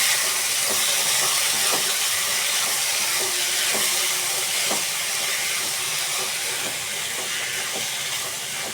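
Boiled vegetables being stirred in a hot cooking pan: a constant loud sizzling hiss, with soft scraping taps from the utensil scattered through it.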